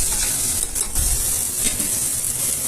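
Spice masala fries in a pan while being stirred, giving a dense, constant sizzle with light scraping and clicking from the utensil, close and fairly loud.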